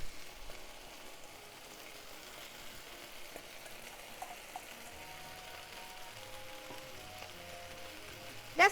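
Chopped leek sizzles in a hot pan with browned chicken for a chicken and leek stir fry, a steady close crackle and hiss with faint pops and a short louder clatter at the end.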